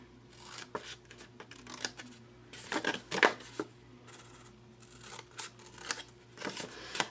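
Scissors cut up to a 1-inch mark on a pair of panels, giving a close series of crisp, irregular snips and rustles with short pauses between strokes.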